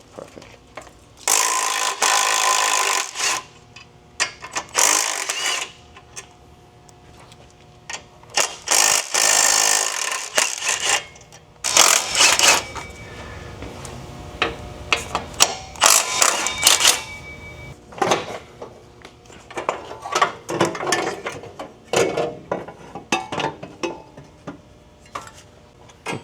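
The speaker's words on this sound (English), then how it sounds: "Check out the Astro ratchet." An Astro ratchet wrench clicks in bursts of rapid ticking, close and fairly loud, with pauses and clatter between strokes.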